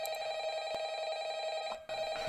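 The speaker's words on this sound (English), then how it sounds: "the phone's ringing for me" An in-game telephone rings in a Five Nights at Freddy's fangame, a steady electronic ringing tone that holds continuously with a brief dropout near the end, moderately loud and without speech.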